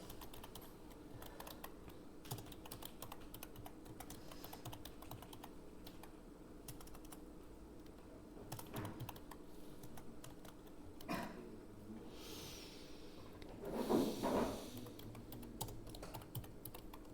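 Steady typing on a computer keyboard during data entry in MS Word, soft and continuous keystrokes heard up close and fairly quiet, with a few louder clacks near the end and no talking.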